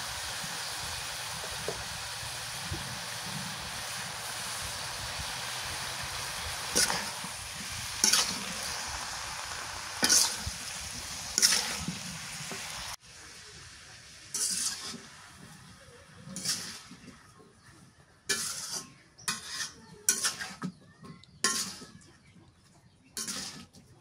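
Spiced curry frying in hot oil, a steady sizzle running throughout while a spoon stirs and scrapes the pan in repeated bursts, the frying growing quieter partway and the stirring strokes turning sharper and more frequent.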